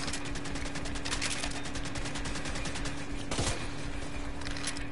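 Rapid gunfire from a burst-firing assault rifle in The Division 2, crackling in repeated volleys over a steady game background hum with a brief louder blast near the end.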